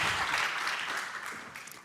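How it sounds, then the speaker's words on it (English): Applause rises from an audience at a political dialogue on coal regions in transition, a steady broadband wash of clapping that fades slightly toward the end of the short burst. "Thank you for the speakers and maybe a big applause."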